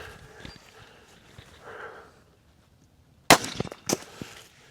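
A gunshot strikes a cap set on an outdoor picnic table, a single sharp loud crack after quiet, followed by a second smaller pop and brief rattling.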